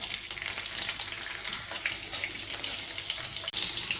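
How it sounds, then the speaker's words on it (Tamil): Mustard seeds and cumin crackle and splutter in hot oil in a pan, a close, continuous fizzing sizzle with a few sharper pops and no voices. "இப்போ பார்த்தீங்கன்னா கடுகு ஜீரகம்லாம் நல்லா பொறிஞ்சிருச்சுங்க"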